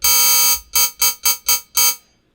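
Massive X synth producing high-pitched, audio-rate noise in a harsh, buzzy tone: one long sustained burst followed by five short pulses in a steady rhythm, loud and alone.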